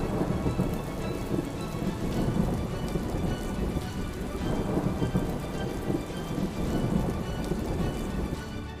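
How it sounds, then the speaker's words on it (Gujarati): Torrential monsoon-style rain in Gujarat falls in a thick, constant wash while deep thunder rumbles in slow surges through the whole stretch, loud and near, with no speech. "છેલ્લા 24 કલાકમાં રાજ્યના અનેક વિસ્તારોમાં ધોધમાર વરસાદ પડ્યો"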